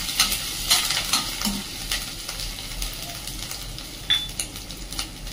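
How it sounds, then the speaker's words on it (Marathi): Chopped ginger and spices sauté in a pan for a cucumber bhaji, a constant low sizzle with repeated sharp clinks and scrapes of a metal spoon stirring against the pan. "छान असं परतून घ्यायचं।"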